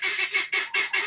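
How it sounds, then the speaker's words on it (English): Guinea fowl on a free-range homestead calling loudly and close, five rapid harsh honking cries in a quick even rhythm. "Guineas are loud, so if you ain't got guineas, they are loud."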